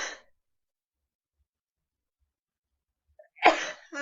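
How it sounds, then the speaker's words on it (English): A single sharp human sneeze near the end, preceded by a short breath at the start and silence between, indoors in humid air. "And now I'm going to sneeze."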